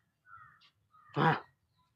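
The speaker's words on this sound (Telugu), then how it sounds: "గాయస్ ఇందాక నుంచి నాకు సౌండ్ బాగా ఇరిటేట్ చేసేస్తున్నాయి ఈ చిలుకలు" Parrots calling outdoors: a short faint squawk followed by one louder, harsh screech, brief and alone against a quiet background.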